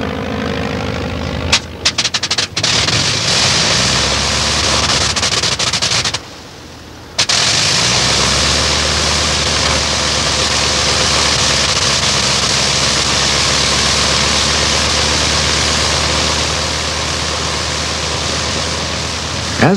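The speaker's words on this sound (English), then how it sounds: "As the triplane lands," A vintage Avro triplane of the Shuttleworth Collection comes in to land, its engine a loud, continuous rushing roar. The roar is broken by sputtering at the start and by a brief drop in level midway.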